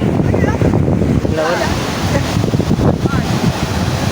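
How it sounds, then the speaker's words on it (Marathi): Sea waves breaking on a rocky crab-dotted shore, a loud continuous roar of surf with wind buffeting the microphone and brief voices in the background. "समुद्र"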